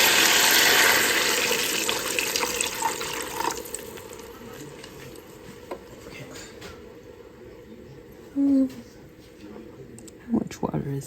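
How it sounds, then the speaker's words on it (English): Water pours into a Ninja Speedi cooker, starting with a loud rushing stream that fades to a quieter trickle. A person talks over it. "I'm going to pour some water down in here."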